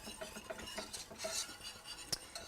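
A spoon scrapes and stirs a thick, stringy cheese sauce for mac and cheese in a pot, producing soft, irregular clinks and rubbing strokes, close and quiet.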